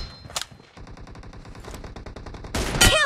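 Rapid gunfire from a multiplayer shooter video game, a team deathmatch with an M24, comes as dense automatic bursts and single sharp shots at close range, ending in a loud, heavy blast with no talking.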